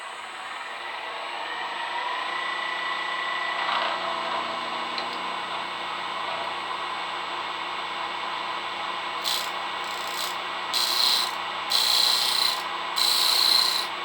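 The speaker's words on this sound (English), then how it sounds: "just use the round nose scraper to bring that on the line" A round nose scraper shapes a spalted beech box on a wood lathe, giving a steady rubbing hiss from the spinning wood with a series of brief, brighter scraping bursts near the end.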